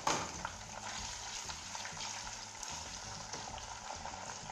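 Shrimp frying in a pan with toasted garlic, a steady soft sizzle close by with faint stirring, starting with a brief louder crackle as the shrimp go in.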